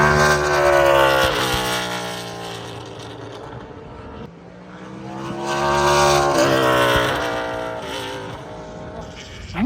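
Race cars roar around the Indianapolis Motor Speedway oval, with loud high-revving engine whines sweeping up and down as cars pass in two main waves.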